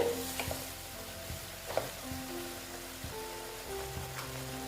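Vegetarian paneer masala being stirred and sautéed in a pan, soft scraping strokes and light crackling sizzle with a few sharper utensil clicks, close and fairly quiet.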